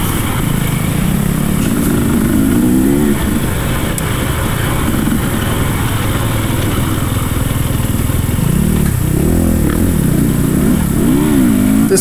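A Husqvarna dirt bike races through a hare scramble, its engine loud and close for the whole stretch, revving up and down with gear changes and throttle bursts.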